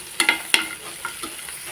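Garlic frying in a pan for chicken sukka, with a few sharp stirring scrapes near the start and faint sizzling underneath, then quieter intermittent clinks of a spoon against the pan.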